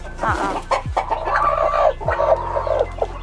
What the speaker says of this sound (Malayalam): ഇതിലിപ്പോ കോഴികൾ അവിടെ ഇരിക്കുന്നത് രണ്ട് കോഴികൾ